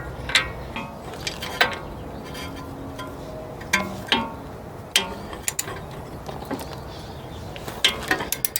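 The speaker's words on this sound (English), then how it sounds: "So first I'm going to go ahead and see if I could break it free with just a socket wrench so it starts spinning" A socket wrench works a tight front control arm tension strut bolt on a BMW F30 335i, giving scattered sharp ratcheting clicks and metallic ticks in irregular bursts, close and fairly quiet, with no talking.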